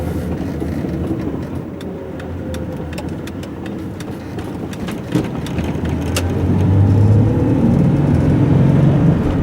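A 1986 Ford XF Falcon S Pac wagon with a manual gearbox drives along, its mid-pitched engine droning steadily with road and cabin noise, then rising in level toward the end as it accelerates.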